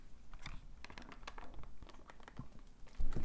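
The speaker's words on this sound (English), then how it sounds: "the keyboard here is tactile and it feels pretty damn good. So here's what it sounds like" Typing on the tactile keyboard of a GPD WIN handheld gaming PC: a quick, close run of soft, irregular key clicks and taps, with a slightly louder cluster of strokes near the end.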